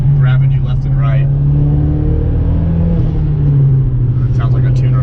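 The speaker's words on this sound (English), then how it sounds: "It sounds like a tuner car with that cold air intake, or maybe a blow off valve, or both" 2011 Mazdaspeed3 with a cold air intake and front-wheel drive, its engine droning steadily from inside the moving car. The tone holds low and constant throughout, with a person talking over it.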